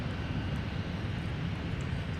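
A large Airbus A330 airliner arriving from Paris roars steadily as it comes in to land at Minneapolis–Saint Paul airport, a continuous broadband jet rumble heard from a distance without voices.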